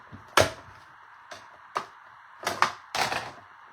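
A small crafting die-cut machine, used for cardmaking, gives a handful of sharp clattering mechanical bursts with short pauses between, close and fairly loud against a quiet background.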